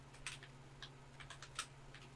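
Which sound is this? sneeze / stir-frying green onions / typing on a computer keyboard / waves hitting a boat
typing on a computer keyboard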